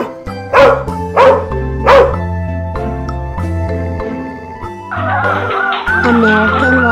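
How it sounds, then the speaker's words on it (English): A dog gives three sharp barks in quick succession, close and loud over steady background music, and the music then continues without barking. "American Pit Bull Terrier. American Staffordshire."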